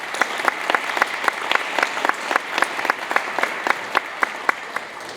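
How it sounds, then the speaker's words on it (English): Applause from an audience at a high school award ceremony, with individual claps standing out sharply over a steady bed of clapping that carries on for several seconds at moderate volume. "I'd like everybody to give her a big round of applause today"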